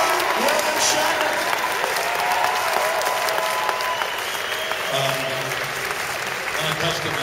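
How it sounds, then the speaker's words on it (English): A large convention audience at Calgary Comic Expo claps loudly and continuously in welcome for William Shatner, dense applause with scattered cheers and voices mixed through it. "Give it up for your awesome Dr. William Shatner"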